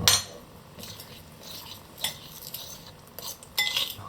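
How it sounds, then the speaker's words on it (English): Banana bread batter being mixed in a bowl with a utensil, giving irregular scraping and clinking strokes against the bowl, close and moderately loud, with a sharper clatter near the end and no talking. "And now we mix everything."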